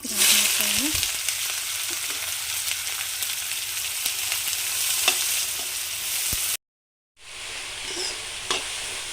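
Finely chopped onions fry in a pan with a loud, continuous sizzle and stirring scrapes, briefly cutting to silence before the frying resumes; no talking.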